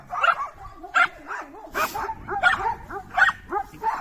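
Several dogs bark and yip repeatedly at close range, sharp overlapping barks in an irregular rhythm with some whiny tones.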